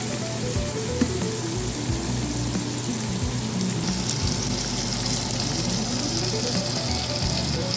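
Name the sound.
shrimp, garlic, onion and green onion frying in a pan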